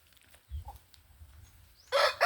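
Low soft clucking from a chicken near the start, then a loud rooster crow bursts in at the end, close by.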